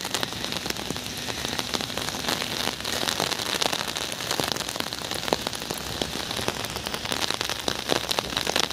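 Steady rain patters densely on surfaces nearby at a water park, a continuous hiss of drops with occasional louder splashes, and no talking.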